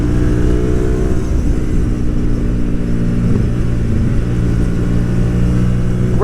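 A Hyosung GTR250R motorcycle engine drones loud and close in a sustained, buzzy note, with the pitch rising and falling slightly as the rider works the throttle, alone without talk.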